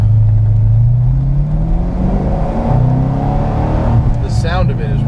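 A 580 wheel-horsepower C6 Corvette Z06 pulls hard while driving, its loud, deep engine note climbing in pitch, dropping briefly at a shift and rising again, heard from inside the car.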